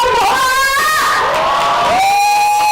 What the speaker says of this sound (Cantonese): 首先我哋俾翻多次掌聲